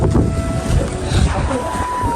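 A heavy rain and windstorm roars in gusts close to the microphone, buffeting it with a rough, uneven blast while excited voices call out over the storm.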